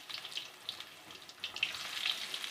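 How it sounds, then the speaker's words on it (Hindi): Potato finger chips fry in hot oil with a bright, bubbling sizzle, rising and falling in small bursts as more pieces go in, heard close and moderately loud without speech. "इसी तरह हम बाकी के चिप्स जो हैं वो डालना स्टार्ट करते हैं।"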